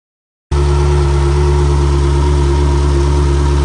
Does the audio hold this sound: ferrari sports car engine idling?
yes